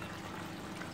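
Water from a submersible pump's line pours steadily into a plastic colander-type utensil with small holes and gravel inside, set over a plastic bucket aquarium; a constant close splashing hiss with no pauses.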